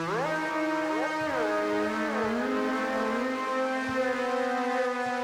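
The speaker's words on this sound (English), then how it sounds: "Then what I've gone and done is basically distorted the heck out of this." Heavily distorted brass layer drenched in fuzz, distortion and reverb, sustained chords sliding and shifting in pitch as a thick, grungy wall of sound, loud and continuous with no talking.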